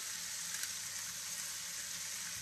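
Food fries in a pan over high heat, a steady bright sizzle close up with faint scraping from stirring, no voices over it.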